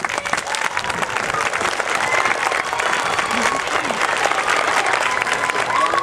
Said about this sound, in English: So we're going to give a round of applause to all the students here.